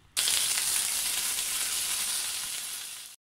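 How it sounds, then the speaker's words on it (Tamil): Vallarai (pennywort) leaves sautéing in a little oil in a pan, a steady bright sizzle starting abruptly and holding evenly close up for about three seconds before cutting off. "இதை வானலில் கொஞ்சோண்டு எண்ணெய் விட்டு பச்சை வாசனை போகிற வரைக்கும் வதக்க போகிறோம்."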